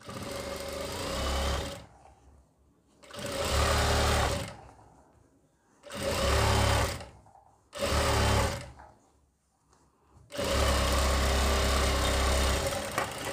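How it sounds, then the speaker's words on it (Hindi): A sewing machine stitches a pant seam in four bursts of steady whirring, separated by short pauses, then runs on again at the end, loud and close with no talk. "सिलाई लगा दी ये हिस्सा बंद हो गया"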